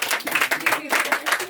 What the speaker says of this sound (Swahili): Simpigia makofi mazuri juu ya ndizi.